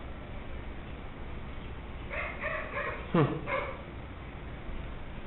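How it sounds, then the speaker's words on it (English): A neighbour's dog barks from next door, a short cluster of yips and whimpering barks in the middle, moderately distant and muffled against steady background noise, with no talking over it. "That's the dog next door."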